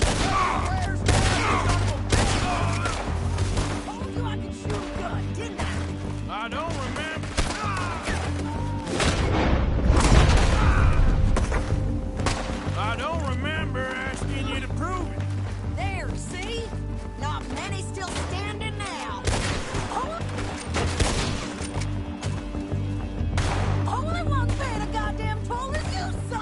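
Dense gunfire rattles through a Red Dead Redemption II shootout, with repeated shots, booms and crashes layered over constant game sound and shouted voices for the whole stretch.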